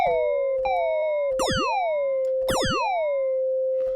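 Synthesized FM electronic tones bend and sweep up and down in bouncy, siren-like glides, several repeated bursts over a sustained pitched drone, clean and loud.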